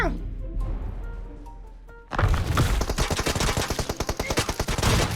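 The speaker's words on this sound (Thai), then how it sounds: "เสียงแบบเหมือนยิงเร็วมาก" Rapid automatic gunfire rattles loud and close in PUBG Mobile, a dense stream of shots that starts abruptly partway through after a quieter stretch of game sounds and keeps going to the end.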